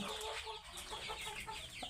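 A black Brahma rooster on a poultry farm gives a quick run of soft, close clucks over about two seconds, with faint background farm noise.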